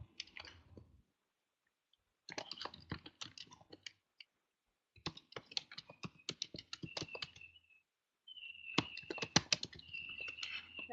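Computer keyboard typing in irregular bursts of rapid clicking keystrokes separated by short pauses, quiet and close, with no voices.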